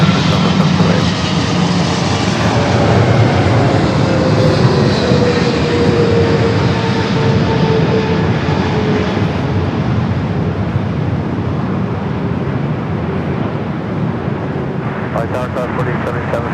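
A jet airliner lands on runway 24 right at LAX, its loud engine roar filling the scene and slowly fading over many seconds, with voices talking underneath.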